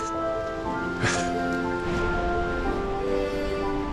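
A steady rushing roar of flowing water fills the clip, like a river in spate after torrential rain, in a forest in Nara, Japan, with no one speaking.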